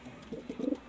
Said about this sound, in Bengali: এই হচ্ছে পায়রাগুলো আমার